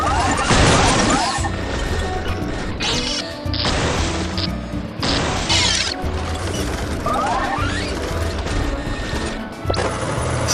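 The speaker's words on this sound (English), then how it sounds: "You'll have to destroy the BNL crates." A robot smashes BNL crates in the WALL-E video game, with repeated loud crashes and mechanical clanks layered over a dense, continuous game soundtrack.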